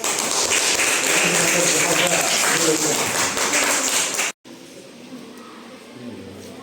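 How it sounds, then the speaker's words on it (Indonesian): Classroom applause for a student, a loud continuous clatter of many hands with chatter mixed in, breaking off abruptly and giving way to quieter room noise and voices. "Tepuk tangan untuk Zak."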